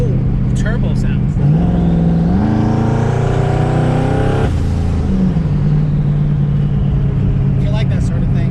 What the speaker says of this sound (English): It's a little drony, but you get to hear cool turbo sounds.